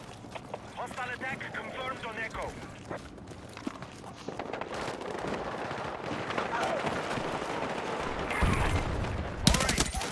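Gunfire in the video game Battlefield 6 during a match, bursts of shots and distant explosions over a dense battle din with footsteps, under a player talking.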